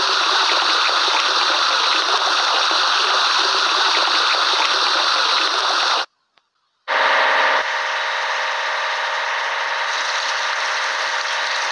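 A toy ambulance is washed with a loud, constant spray of water that hisses without pause, stops briefly for under a second, then starts again and continues steadily.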